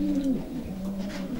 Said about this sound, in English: He's a very friendly pigeon as well.